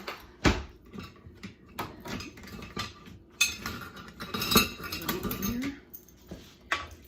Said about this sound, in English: I've got about 2 cups here that I'm going to start with, kind of get that blended together. I think I might use a whisk on that